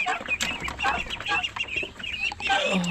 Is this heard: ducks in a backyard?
yes